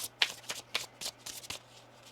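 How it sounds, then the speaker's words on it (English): Tarot cards are shuffled by hand in a quiet room, about six quick riffling bursts in an uneven rhythm, close and soft, with no talking. "One more shuffle here."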